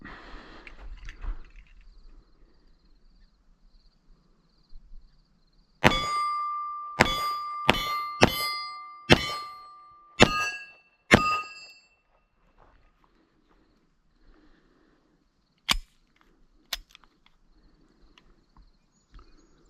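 Gunshots from an original 1945 Remington Rand 1911 pistol: a rapid string of about seven sharp, ringing shots, then two more isolated shots after a pause, loud against a quiet background.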